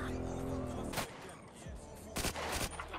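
Gunshots in a GTA roleplay video game, a few sharp shots and a short burst over a steady engine-like rumble, with people talking over the action.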